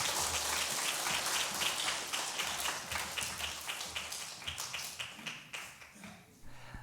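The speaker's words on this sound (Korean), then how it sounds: "아버지들 힘내시라고 박수 한번 치고 제 설교는 마치겠습니다." A Sunday worship congregation claps for the fathers, a dense round of applause that gradually thins into scattered individual claps as it fades near the end.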